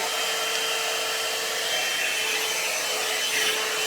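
A hot air hair drying brush blows steadily up close, a continuous bright airy whoosh with a motor whine that stays even and loud throughout.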